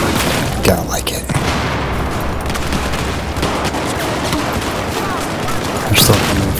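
Battlefield 4 gunfire crackles and booms without letup, a dense, loud clatter of rifle and heavier weapon shots. Players talk over the game audio now and then.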